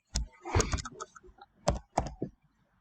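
Keys clatter on a computer keyboard in short bursts of quick clicks separated by pauses, fairly quiet and close, with no voices.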